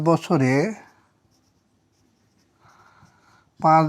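Soft scratching of a pen or marker writing a math solution by hand during a Bengali lesson on interest, a faint stretch between bursts of a voice speaking.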